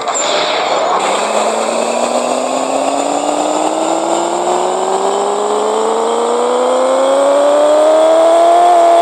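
A 5.4-litre Hemi car engine in the video game Pixel Car Racer revs up steadily, its pitch climbing smoothly for several seconds in one continuous loud, close drone with no talking.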